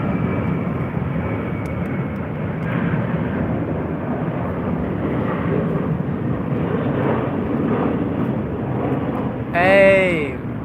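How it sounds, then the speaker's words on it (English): A Qantas Boeing airliner passes with a broad, steady engine roar that holds loud throughout, and a sharp rising whine swells near the end; a voice speaks briefly over it. "There goes our Qantas Boeing 787-800."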